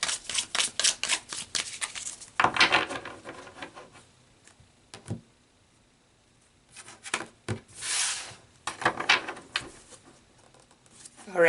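Tarot cards being shuffled and pulled, with quick riffling bursts, soft slides and taps of cards on a surface, separated by quiet pauses, close and fairly loud.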